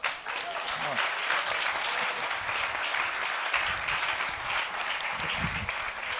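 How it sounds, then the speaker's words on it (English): An audience applauds a panel after a debate, a steady, dense wash of clapping that fills the room for the whole stretch. "Ladies and gentlemen, a big applause for the panel and Peter de Keyser."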